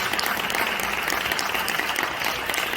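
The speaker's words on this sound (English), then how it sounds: "And you deserve a hand clap to yourselves." Audience applause at a community fundraising event, even continuous clapping at a fairly close, steady level for the whole stretch.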